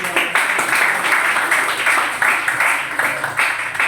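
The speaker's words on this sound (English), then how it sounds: "Can we clap for the audience?" An audience claps in a classroom after a lesson on personal narratives, a steady patter of many hands with rhythmic bursts, fairly close and loud, with no talk over it.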